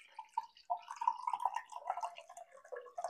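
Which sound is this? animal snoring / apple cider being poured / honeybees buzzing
apple cider being poured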